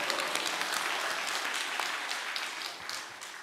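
Many people clap together in a church seminar hall in Incheon or Bucheon, producing a dense, lively round of applause that tapers off slightly toward the end, with no one talking over it.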